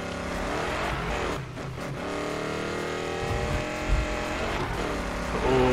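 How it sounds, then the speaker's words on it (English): Old car in a racing video game driving fast, engine loud and steady with rising and falling revs, tire noise and brief dips in pitch as it shifts and corners. "Oh boy, this is a very quick old car."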